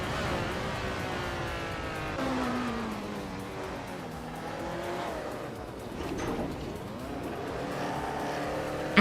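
Several race cars in a video game battle nose to tail, engines droning and revving continuously with shifting pitch sweeps as they pass, steady and loud throughout.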